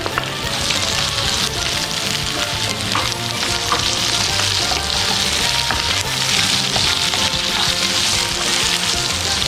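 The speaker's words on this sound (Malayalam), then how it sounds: "സവാള ഒന്ന് മൂത്ത് വരുന്നവരെ നമുക്ക് ഇളക്കിക്കൊണ്ടുപോകും" Sliced onions, four of them with ginger, sauté in a pan for a prawn and drumstick butter masala, giving a steady loud sizzle with frequent scraping stir strokes throughout, close and with no talk.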